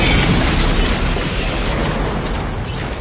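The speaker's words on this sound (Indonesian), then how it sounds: "mereka malah dijebak dan bom pun meledak" A loud, sustained roaring blast, like an explosion rumbling and slowly fading.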